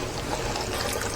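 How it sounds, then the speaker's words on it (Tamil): One cup of thick curd is poured onto chicken while a biryani is being made, giving a short, steady wet pouring sound heard close up and alone. "இந்த புளிப்புக்கு வந்து இந்த தயிர் ஊற்றிக்கோங்க"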